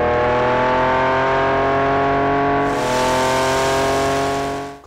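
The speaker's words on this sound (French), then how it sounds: "je garde encore, non pas le bruit du V12, mais le bruit de la boîte" The V12 engine and gearbox of a Lamborghini Countach drone in a steady, loud tone that brightens halfway through and fades at the end, heard alone without voices.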